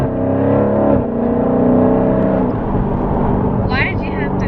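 A 2020 Dodge Challenger Scat Pack 392 widebody V8 revs and accelerates from the cabin, a loud, steady, deep engine drone that builds and holds, with talk over it.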